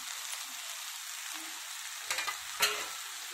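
Boiled chana dal tipped into a hot pan, setting off a steady frying sizzle with a few soft stirring knocks and one sharper clatter near the end, fairly close and with no voices.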